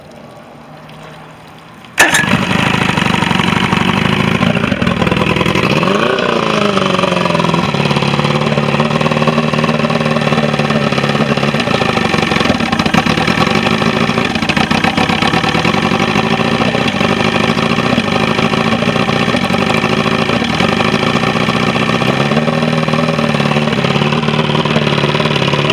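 A 1977 OMC 85 hp V4 outboard motor with running issues starts after two seconds of quiet and then runs continuously, a loud, close, steady idle with small shifts in pitch.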